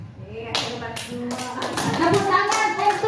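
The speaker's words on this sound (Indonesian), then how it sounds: "Tepuk tangan untuk Ibu guru hebatku semua." A classroom group claps for the teachers, a handful of sharp separate claps at first that build into quicker, overlapping applause, close by with voices mixed in.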